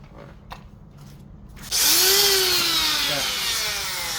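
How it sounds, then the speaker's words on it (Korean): A 34,000 rpm grinder motor fitted with a carbide drill bit, used for drilling shiitake mushroom logs, switches on abruptly after a quiet pause and runs with a loud high whine whose pitch rises and settles. "이 모터의 소리가 굉장히 힘이 느껴질 거예요."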